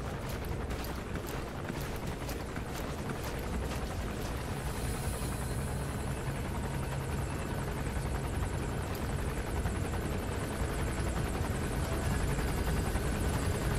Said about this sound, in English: We wait for the chopper to go overhead,